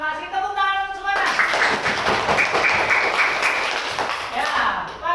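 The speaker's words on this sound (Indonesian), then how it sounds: "Tepuk tangan untuk semuanya." A classroom breaks into brisk, sustained clapping after a brief voice at the start, many pairs of hands close by and fairly loud until the end.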